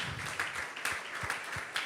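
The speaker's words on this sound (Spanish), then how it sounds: "¿Qué les parece si comenzamos a alabarle con un aplauso?" Church congregation applauding in praise during a worship service, with a steady wash of clapping and a few louder individual claps standing out, fairly close and without speech.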